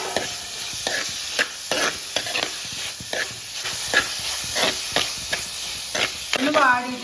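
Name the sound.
sautéing tomato, green chilies, curry leaves and ginger for crab curry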